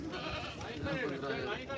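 Barbari goats at a weekly livestock market in Dhanaula bleat in short wavering cries amid loud, continuous crowd chatter and nearby voices.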